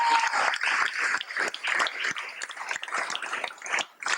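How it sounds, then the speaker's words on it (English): Crowd applause, a dense patter of many hands clapping steadily throughout, fairly close with no pause. "We should really give her a big round of applause."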